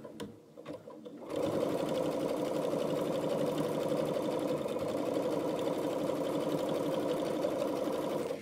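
A sewing machine stitches a bread proofing bowl, starting after a short quiet moment and then running in a continuous, steady, fast mechanical whir that fills the rest of the stretch.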